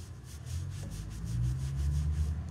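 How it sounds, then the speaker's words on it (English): A cloth vigorously rubs Pureco liquid wax over chalk-painted wood, making a steady, close, rhythmic swishing scrub that grows slightly louder partway through. "we're just really, really rubbing that"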